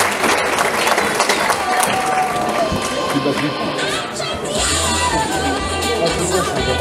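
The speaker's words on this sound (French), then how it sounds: "Alors on peut applaudir extrêmement fort Marie" Loud crowd applause and cheering at a hair salon fashion show in Theillay, close and dense, with a presenter's voice talking over the clapping and background chatter throughout.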